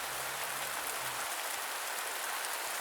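Steady rain falls heavily at Wasit Wetland Centre, a continuous dense hiss of drops on surfaces with no voices.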